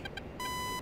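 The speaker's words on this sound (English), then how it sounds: "Just make the beeping go away." A cockpit warning in a flight combat video game sounds two quick electronic beeps, then a steady, piercing tone that holds loud and alone.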